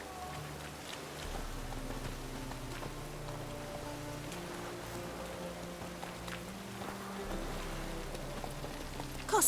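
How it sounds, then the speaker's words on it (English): Steady rain falling in The Witcher 3 video game, a soft continuous patter spread across the whole span under low game ambience and tonal music, with no talk. "Yeah, it's raining."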